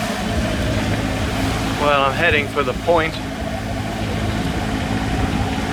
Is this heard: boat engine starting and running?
yes